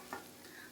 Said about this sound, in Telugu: ఇలా పుట్నాల పొడి వేసుకొని బాగా మిక్స్ చేసుకోవాలి